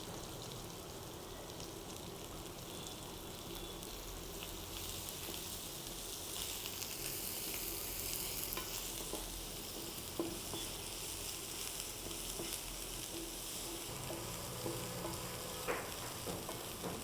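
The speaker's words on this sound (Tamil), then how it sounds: "இப்போ பொடியாக நறுக்கி வச்ச வெங்காயம் ஆட் பண்ணுறேன்" Chopped large onions sizzle steadily in a pan while being sautéed for a drumstick leaf soup, a faint, even frying hiss with occasional stirring clicks and scrapes and no talking.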